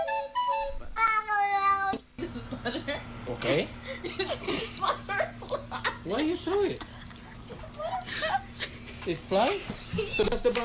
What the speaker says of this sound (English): If you thought you were emotional, you've never seen a jealous cat before.